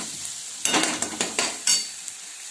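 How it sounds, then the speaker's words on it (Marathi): Masala sautés in oil in a pan for a rustic moth bean curry, a loud close sizzle rising in several bursts as it is stirred and tossed, with spoon scrapes and no speech. "छान तेल सुटीस तर चांगला मसाला परतून घ्यायचा"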